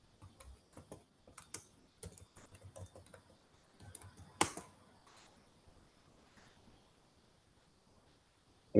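Soft, close taps on a computer keyboard as a command is typed, irregular clicks in quick clusters with one louder keystroke, then near silence.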